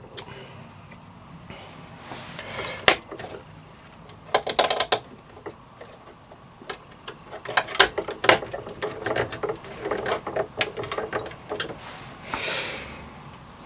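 Screws being tightened on an Ecto 1 model car from the Hero Collector/Eaglemoss Ghostbusters build kit: soft clicking and ratcheting taps with a few sharper clacks of tool against plastic, close-up and fairly quiet with a faint room hiss.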